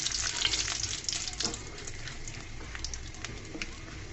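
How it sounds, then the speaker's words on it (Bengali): A few dried red chillies frying in oil in a pan, a close, steady sizzle with crisp crackles and occasional stirring scrapes, no speech. "শুকনো মরিচগুলোকে ভালো করে ভেজে নেব।"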